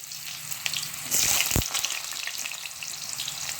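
Food frying in hot oil in a pan for a home-cooked Assamese meal, a steady close sizzle with a louder crackling burst and a brief clatter midway, no voices.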